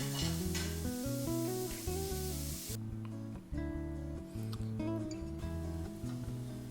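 Pork pieces sizzle and crackle loudly as they brown in a hot pot, with a steady frying hiss and occasional clinks of stirring.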